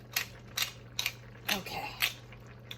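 Pepper mill grinding black pepper over a pan of bubbling melted cheese sauce for French onion mac and cheese, five short raspy ratcheting bursts in a steady rhythm, close and fairly quiet over a low hum.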